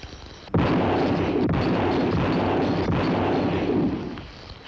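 A lever-action rifle from a 1950s western fires with a single loud blast about half a second in. The shot is rigged to trip when the lever is slammed home, and a broad roaring report sustains before fading near the end.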